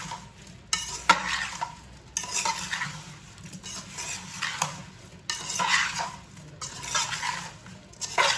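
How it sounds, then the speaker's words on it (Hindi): Mango pickle being stirred and mixed by hand in a metal pot, with repeated scraping and clinking strokes in irregular bursts, close and moderately loud, no talking. "अच्छी तरह मिक्स कर लेंगे अचार को"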